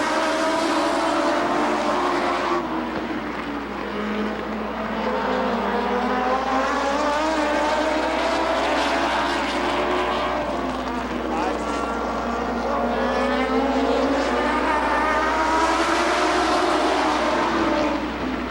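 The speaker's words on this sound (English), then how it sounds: "Green flag, we're back racing." Stock cars race on the oval at Rockford Speedway in 1996, a continuous roar of several engines rising and falling as the pack circles, fairly loud and distant, with talk at times.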